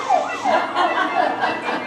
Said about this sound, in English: He comes in and sounds the alarm